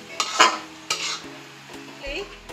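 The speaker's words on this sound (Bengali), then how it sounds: "এবার পেঁয়াজগুলো খুব ভালো করে লাল করে ভেজে নেব" Onions fry in oil until browned for mashed pumpkin, with a soft sizzle under repeated close scrapes and knocks of a spoon stirring in the pan, plus a brief metallic clink near the end.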